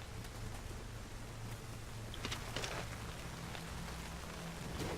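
Steady rain in the video game Nioh patters across the whole stretch, a dense hiss with a low droning hum beneath and a few brighter splashes, no voices.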